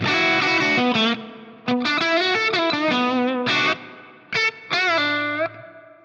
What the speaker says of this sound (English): We'll go for a plate style reverb.